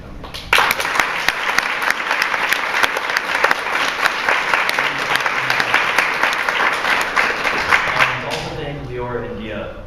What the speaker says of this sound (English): I want to have a round of applause for the students.